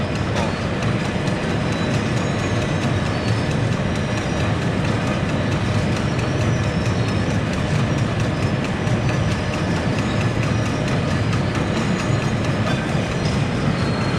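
A potato sorting machine runs with a dense, steady mechanical rattle and rumble, loud and continuous throughout, churning and tumbling potatoes with no voices.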